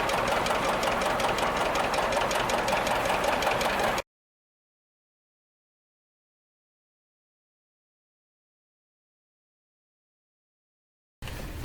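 A heavy diesel tractor engine with electric start runs steadily and loudly with a rapid knocking pulse for a few seconds in cold winter weather, then cuts out into long silence before resuming briefly.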